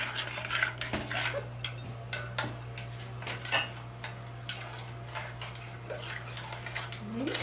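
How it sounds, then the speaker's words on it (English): Handmade soap mixture being stirred in a container, a steady run of light clinking and scraping taps against the sides, close and continuous over a low constant hum. "I'll stir it with my other hand"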